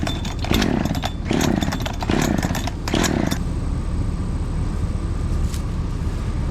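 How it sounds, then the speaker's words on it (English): Outdoors in Illinois during food plot work, a chainsaw revs in several short, loud bursts, then settles into a steady idle with a constant motor drone. "Chainsaw's out of gas."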